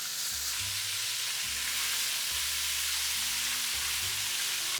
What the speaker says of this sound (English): whenever you fry, don't put too many at once, because that will lower the temperature of the oil